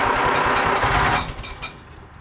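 A restored 1944 Allis Chalmers B tractor engine chugs loudly at close range with a rapid, rough pulse on a cold start, then drops away into a softer, fading rumble within two seconds.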